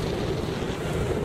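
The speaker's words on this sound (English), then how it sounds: "Ooh, it's windy." Strong wind roaring against the microphone while parasailing, in a brief, dense, continuous rush with low buffeting.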